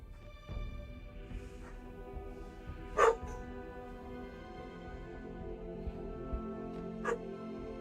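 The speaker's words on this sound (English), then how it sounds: "Oh, the dogs are just barking their heads off." Several dogs bark off and on, a few sharp loud barks standing out over a steady background hum, with scattered yips between them.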